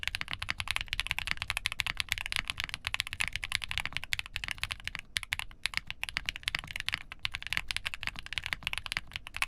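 Fast, steady typing on a QK65 mechanical keyboard built with a palm plate, full foams, K2C Halu switches, gasket arcs and GMK Blue Samurai keycaps: dense, continuous clacks close up, with no voices.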